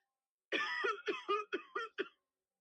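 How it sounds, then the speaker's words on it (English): A run of six harsh coughs in quick succession, close and loud, each burst short and raspy, with a brief pause before the final ones. "brought the rag to his mouth as he began to cough again"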